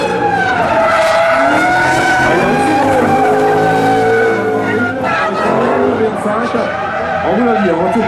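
Falken drift team car with a 5-litre V8 performing at an expo show, its engine roaring loudly and steadily while tires squeal and skid throughout, with a commentator talking over it.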